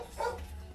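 A dog outside gives a single short, muffled bark or yip at moderate distance, heard by itself.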